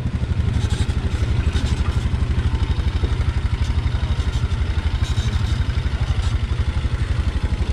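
A motorcycle engine on a rough off-road trail runs in a steady, low, pulsing thump with clattering mechanical rattle, close by and continuous throughout, rising slightly in places.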